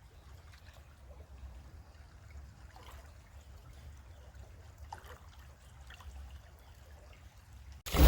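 Clear spring-fed river water flows softly nearby in a village setting, a faint, steady trickle with a low murmur and occasional small splashes, no talk.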